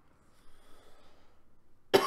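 After a near-silent stretch, a sudden loud close human cough bursts out at the very end.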